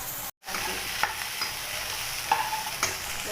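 Tomatoes sautéing in oil in a pan for an okra curry, a steady close sizzle with a few soft stirring scrapes, briefly cut out near the start.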